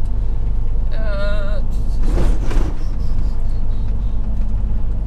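A truck brakes to a stop on Route 66 in the Mojave, its heavy engine rumbling low and close while a brake squeal and a hissing air release rise over it, with a voice heard briefly.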